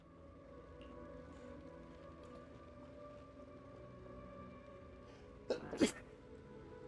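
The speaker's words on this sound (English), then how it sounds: "Man, I'm sneezing a lot today." A man gives one sharp, close sneeze with a quick intake just before it, near the end of a quiet stretch of low game background sound.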